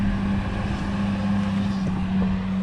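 An earthmoving scraper hauling dirt gives off a steady, loud low engine drone, with a rough rumble and some wind noise throughout.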